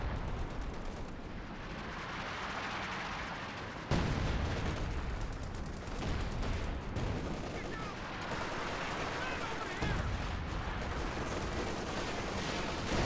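An artillery barrage in Company of Heroes 2 pounds away as a dense run of booming blasts and crackling gunfire, loud and continuous, with sharp jolts near the four- and ten-second marks.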